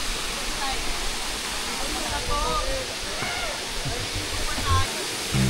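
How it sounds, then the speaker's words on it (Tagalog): Batlag Falls in Tanay, Rizal, gives a constant broadband rush of falling water close by, with splashing and gurgling mixed in. Someone talks faintly beneath the roar. "Ganda ng bagsak ng tubig guys."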